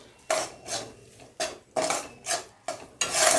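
Ghee being mixed into flour in a pan for farali sukhdi, with a spoon scraping and clattering against the metal pan in about seven sharp strokes, close and alone.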